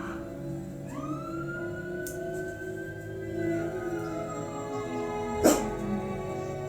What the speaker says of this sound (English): There's some sirens going on outside.